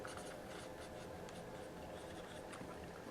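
A pen drawing an economics graph by hand, a continuous close scratchy stroke sound with brief pauses and short taps, quiet and without talk.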